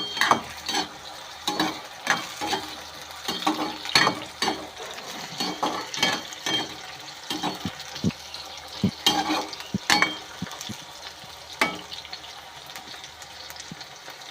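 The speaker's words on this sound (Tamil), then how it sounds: "எண்ணெயிலே பொரியுது பார்த்தீங்களா." Eggplant frying in sesame oil: a continuous busy sizzle broken by frequent sharp pops and spatters, plus irregular stirring scrapes throughout, fairly close and with no voices.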